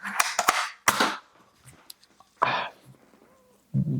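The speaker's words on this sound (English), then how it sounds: "you can just pull it and it shoots the next bullet" A Bumblebee Nerf gun fires darts in a few sharp, loud pops spaced apart, followed by quieter clicks and a brief burst of noise near the end.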